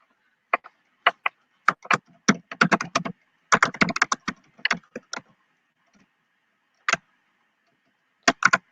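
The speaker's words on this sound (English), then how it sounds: "this mic is strong. It pick up every time I type on the keyboard." Computer keyboard typing close to a sensitive microphone, sharp irregular clicks in quick clusters with short pauses between bursts, no speech.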